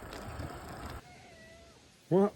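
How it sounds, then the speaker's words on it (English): Cat meowing outdoors along a Virginia back road, a faint short call followed by one louder, closer meow at the end, over light background noise. "Well, there's this cat here."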